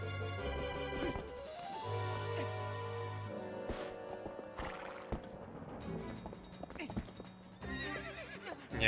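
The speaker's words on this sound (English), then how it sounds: "It's normal for a horse to be a little agitated after... ridden by... monsters." Epona the horse in Zelda: Twilight Princess HD gives loud, repeated whinnies and neighs, mixed with clip-clopping hooves and game sound effects.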